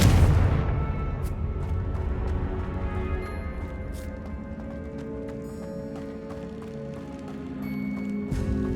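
A Confringo blasting spell from Hogwarts Legacy opens with a loud low boom, then gives way to rumbling, debris-like clatter and scattered sharp impacts that fade and swell across the scene, with no talk.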